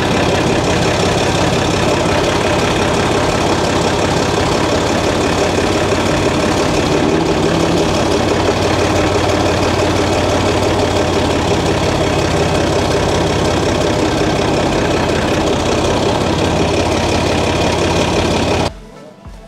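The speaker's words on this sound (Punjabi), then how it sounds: "ਥੋੜ੍ਹਾ ਜਿਹਾ ਤੁਹਾਨੂੰ ਟਰੈਕਟਰ ਨੂੰ ਚਲਾ ਕੇ ਵੀ ਦਿਖਾਉਂਦੇ ਹਾਂ।" A restored Massey Ferguson 135 tractor runs steadily as it is driven, its engine droning loud and close without pause before cutting off abruptly at the very end.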